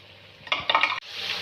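Potato curry ingredients frying in a karahi, a soft low sizzle broken by a few brief clinks and scrapes of a spoon against the metal pan.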